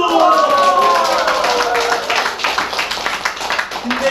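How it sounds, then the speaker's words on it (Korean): An audience at a lecture breaks into clapping, rhythmic hand claps that build over a fading voice at the start and continue fairly close and steady. "박수!"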